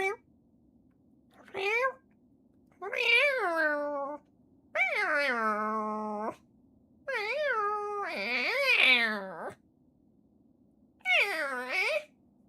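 A human voice imitates a cat, producing about six drawn-out, wavering meows separated by pauses, close and clear against near silence.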